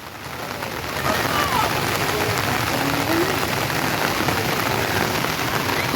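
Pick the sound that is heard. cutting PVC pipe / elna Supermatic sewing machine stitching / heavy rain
heavy rain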